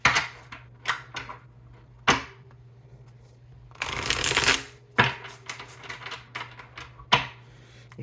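Tarot cards are shuffled by hand, giving crisp riffling bursts and light taps with a longer flurry in the middle, close and with no voice.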